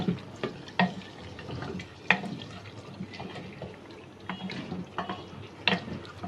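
Mutton handi is stirred and mixed in a clay pot, giving soft wet scraping and squelching with a few sharper knocks of the spoon against the pot, quiet and close, no talk.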